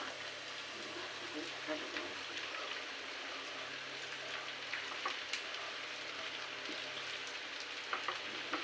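Taro leaves (kochu shak) cooking in a frying pan with oil, a constant rain-like hiss of sizzling with scattered small crackles, fairly faint, and a voice talking over it.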